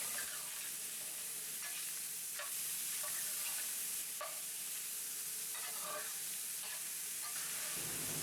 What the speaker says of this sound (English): We cook the ground beef until it's no longer pink, then we add the onions and cook it all until the onions are tender.